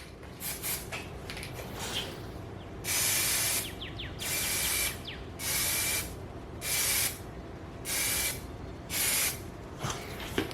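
Short bursts of aerosol spray hiss onto a plastic car part in a steady rhythm, about seven sprays with brief pauses between, close by over faint background rumble.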